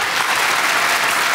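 An audience at a comedy show applauds loudly, a dense, steady clapping with no pauses, close and filling the whole moment.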